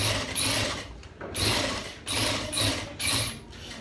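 A sewing machine runs in four short bursts while stitching a hoff bean design, each whirring run separated by a brief pause.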